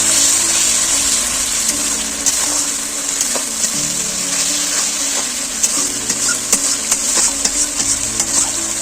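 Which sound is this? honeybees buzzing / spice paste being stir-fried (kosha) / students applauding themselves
spice paste being stir-fried (kosha)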